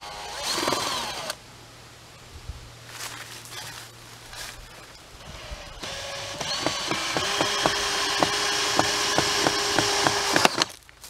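A power drill drives screws to fix a door piece in place, with short whirring bursts early on and then a longer steady whine broken by rhythmic clicks, heard up close.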